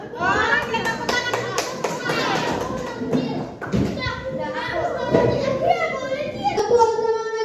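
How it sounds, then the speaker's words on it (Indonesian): Children clap their hands together in a classroom lesson, a quick run of sharp claps amid lively kid chatter and voices throughout. "Oke, tepuk tangan."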